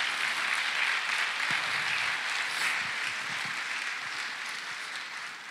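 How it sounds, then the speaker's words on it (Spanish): A church congregation claps loudly and steadily in a sanctuary during a sermon, a sustained wash of many hands that slowly fades toward the end. "Den un fuerte aplauso al Señor."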